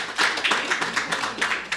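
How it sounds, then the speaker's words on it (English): Audience clapping at a student general council summit, a sustained burst of many hands with irregular peaks, fairly close and moderately loud, with no voices over it. "Could we give them a round of applause as they leave?"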